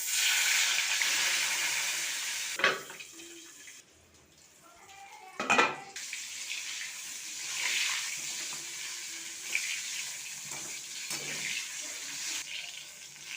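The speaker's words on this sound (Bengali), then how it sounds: "ফ্যানটা ঝাড়িয়ে নেব।" Starch water pours off a pot of cooked rice as it is drained, a hissing, splashing flow with a few clattering knocks of the pot and lid, fading in and out.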